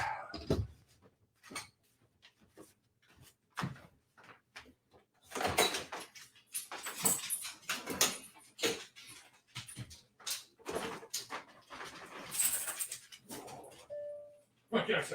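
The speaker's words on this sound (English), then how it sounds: "I guess I have to go let my dog out." A dog whimpers and yelps while being let outside in the morning, with door clatter and a person talking close by amid scattered bumps and short bursts.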